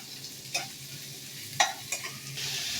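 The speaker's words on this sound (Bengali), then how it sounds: "ভালো করে নাড়াচাড়া করবো।" A spoon stirs dried fish frying with taro stolons in a pan, a soft steady sizzle broken by three or four scraping clinks, close and fairly quiet, with no talk.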